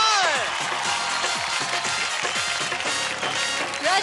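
A studio audience at an Indian televised dance competition applauds and cheers loudly and continuously, the clapping layered with whoops and music beneath.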